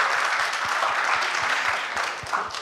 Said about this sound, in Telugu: ఒక క్లాప్స్ కొట్టండి.